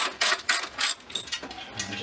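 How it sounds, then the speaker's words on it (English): Quick ratcheting clicks in several short bursts as bolts are driven into a lawn mower deck, close and crisp with brief gaps between strokes. "I'm just mainly trying to get those bolts in straight to the deck so that we're not cross-threading"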